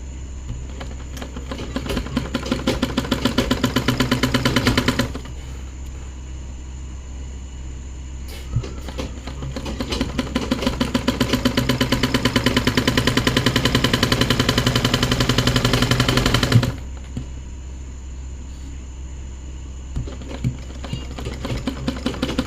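A sewing machine stitches a pant leg in two long rapid runs of close, loud mechanical chatter, separated by a quieter pause with softer handling noise.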